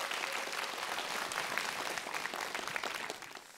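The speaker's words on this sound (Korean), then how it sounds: "여러분 마지막으로 큰 박수 한번 부탁드리겠습니다" Applause from a concert audience at a school charity show, a steady, fairly quiet wash of many hands clapping that fades slightly at the close, with no voices over it.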